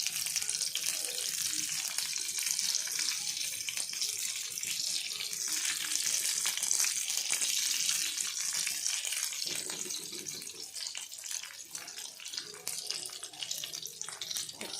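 Bitter gourd pieces fry in hot oil in a pan with a dense, even hiss that stays steady throughout, fading slightly toward the end.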